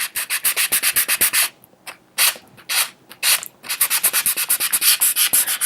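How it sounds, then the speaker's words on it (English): Sandpaper rubbing back and forth over the stained wooden body of a DIY guitar kit, fast rhythmic strokes up close, with a brief pause and a few slower passes partway through, no talking. "if I just sand it all back and go again"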